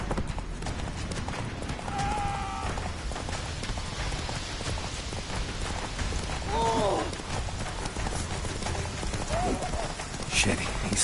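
Roach the horse gallops in The Witcher 3, with a rapid, steady clip-clop of hooves and occasional whinnies under spoken voices and rain-like ambience.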